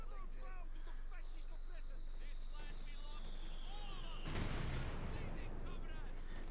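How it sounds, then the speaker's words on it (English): Mortar fire in the Company of Heroes 2 video game: a steady wash of battle noise with scattered shots, then a loud, broadband blast near the end. Someone talks over it throughout. "Contras only getting obliterated here by the double mortars."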